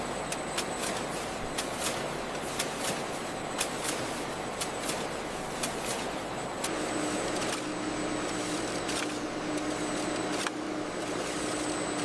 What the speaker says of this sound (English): Powerful cutting machines slice the squid into precise sections.